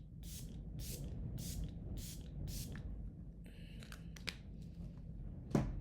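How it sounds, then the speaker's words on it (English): Milk Hydro Grip setting spray is misted in five quick, evenly spaced spritzes from a pump bottle, followed by a couple of softer bursts and a light clatter near the end, heard close over low steady background hum. "I'm going to go in with my Milk Hydro Grip setting spray."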